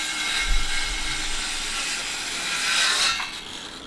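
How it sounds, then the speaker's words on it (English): A small Ryobi saw cuts through 2x4 lumber for a lean-to shed, giving a steady, close, fairly loud whining buzz that swells briefly near the end of the cut, with no talking. "that's that little Ryobi saw I was telling you about"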